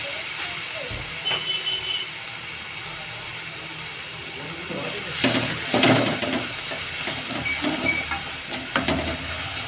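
Matki sprout usal with tomatoes, green chillies, coriander and turmeric sautéing in a pan gives a steady steamy hiss and sizzle, with a few brief louder bursts of frying noise partway through.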